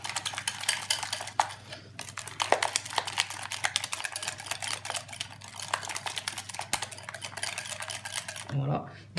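A spatula works pastry cream into almond cream in a bowl to make frangipane for a galette des rois, giving close, steady scraping and clicking strokes in a quick, uneven rhythm that carries on throughout.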